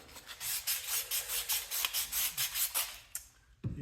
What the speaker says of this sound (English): Steel is different than wood as far as sanding goes.